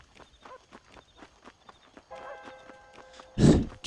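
Horse hooves clip-clop at a steady walking pace in the video game Red Dead Redemption, a series of soft, regular thuds, then a loud, brief burst near the end that may be a whinny.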